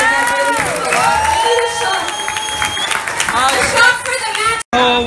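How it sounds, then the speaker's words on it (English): Lively crowd cheering, whooping and applauding for a guest named Isabel at a wedding reception, dense and continuous throughout, cutting out briefly near the end. "let's give a round of applause for Isabel"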